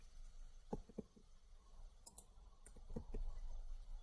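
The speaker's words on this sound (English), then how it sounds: "double click" Computer mouse clicked twice in quick succession in Revit 2023, a pair of close, crisp clicks followed by a few fainter clicks later over quiet room tone, with no talking.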